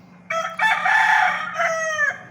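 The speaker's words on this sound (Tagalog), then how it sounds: "Yun, ang magic tilaok natin." A rooster crows loudly nearby, one long drawn-out call with a brief break partway through, over a low steady background hum.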